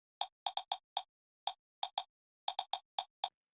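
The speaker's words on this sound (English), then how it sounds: "It's just like this kind of small percussion sample." A small, crisp percussion sample in a jazzy organic house track: short dry clicky hits in a syncopated pattern, some doubled, alone with no other instruments.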